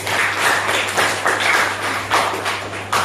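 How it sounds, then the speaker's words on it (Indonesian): A classroom of students applauds a student group, giving a dense, fairly loud round of clapping that swells in waves over a low steady hum, with no talking. "Tepuk tangan untuk kelompok 1."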